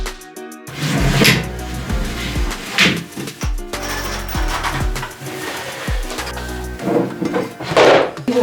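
Repeated knocks, thuds and wooden clatter with clinking metal as an office cabinet is taken apart by hand, irregular and close, with no talking.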